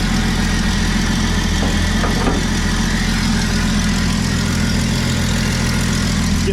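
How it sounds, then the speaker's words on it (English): A 1995 Jeep Wrangler's 4.0-liter straight-six engine idles close by, a loud, even rumble with a faint knocking texture, running alone without speech. "that's 4-liter straight six"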